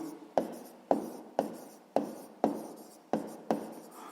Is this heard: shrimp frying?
no